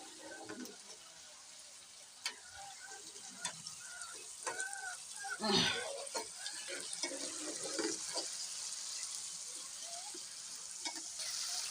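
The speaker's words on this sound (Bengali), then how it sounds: "কাঁচামরিচ দিয়ে মশলাটাকে সম্পূর্ণ কষিয়ে নেই" Spice paste with green chilies being stir-fried for a hilsa-head and taro-leaf ghonto: a soft, steady sizzle with intermittent spatula scrapes and taps, fairly quiet and close, with a faint rooster-like call in the background.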